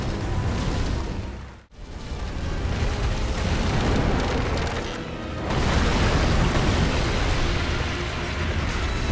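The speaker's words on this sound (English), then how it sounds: "Acid Bomb is his signature move, isn't it?" Acid Bomb attack in Dark Souls 3 fills the scene with a loud, continuous roaring, hissing eruption, cut by a sudden brief gap before the blast resumes and swells again.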